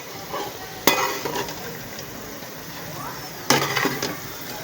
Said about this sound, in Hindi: मैंने थोड़ी सी फ्राई की है और लेस ख़त्म हो गई है